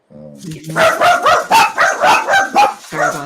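Dogs bark in a rapid, loud run of yips and barks close by, with a voice briefly heard at the start.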